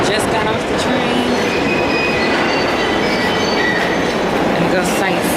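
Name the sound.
train in London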